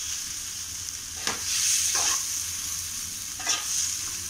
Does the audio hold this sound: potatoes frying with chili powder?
yes